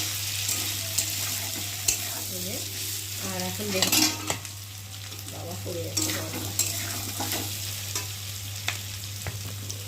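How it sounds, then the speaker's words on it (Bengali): Potatoes frying with spices in a pan, a loud continuous sizzle broken by scraping stirs and clinks of a spatula against the pan, with a brief spoken remark and a steady low hum beneath. "মশলার সাথে আলুটাও ভালো ভাজা ভাজা হয়ে গেছে"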